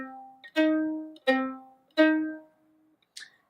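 A minor third plays on an instrument as three sustained two-note tones, each swelling and fading away, with a short bright note at the end.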